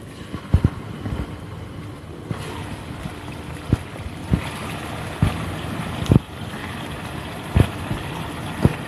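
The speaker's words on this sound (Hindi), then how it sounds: "हमारा ऑयल गर्म हो चुका है, मैं इसमें ऐड कर दूँगी चिकन।" Chicken pieces hitting hot oil for a Shinwari karahi, a steady broadband frying hiss with intermittent sharp pops and crackles scattered throughout, moderately loud and close with no talking.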